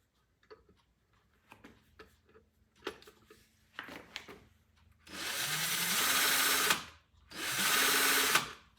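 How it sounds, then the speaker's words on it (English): A few scattered clicks and taps, then two long bursts of a power drill spinning in reverse, whirring loudly, each lasting about two seconds, separated by a brief pause. "I've got it in the drill, and you have to turn the drill in reverse"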